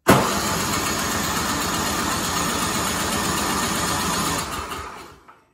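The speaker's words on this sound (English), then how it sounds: "So let's start her up and see how she runs now." A snow blower's small engine starts abruptly and runs steadily at a loud, near, buzzing drone with half choke and full throttle, holding for several seconds before sputtering and dying away at the end.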